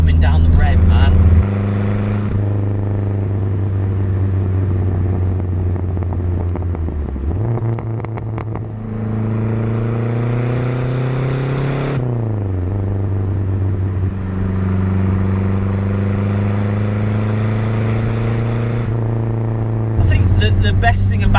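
The engine of a 1980s Renault 5 GT Turbo hatchback revs up and drops back several times, a loud, close, droning exhaust note whose pitch climbs and falls, with a voice talking over it.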